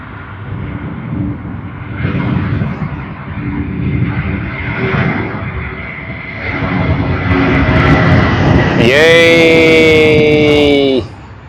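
A Juneyao Air Boeing 787-9 departing Sydney Airport, its jet engines building into a loud, sustained roar that swells and rumbles, with people talking over it near the end.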